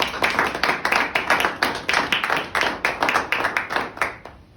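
Clapping at a presentation comes as distinct, sharp, rhythmic claps from a small group, close and fairly loud, in a quick regular pulse that stops abruptly at the end.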